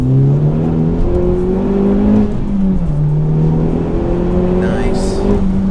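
A cold Honda Civic Type R turbo engine pulls hard, a loud, close cabin drone rising in pitch, dipping at a gear change around two seconds, then climbing again as the car accelerates.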